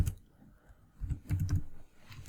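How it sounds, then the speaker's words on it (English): Fingers tap on a computer keyboard, producing soft scattered clicks with a quick cluster of keystrokes in the middle, quiet and close without any talking. "press the enter key to add a new block, type the /"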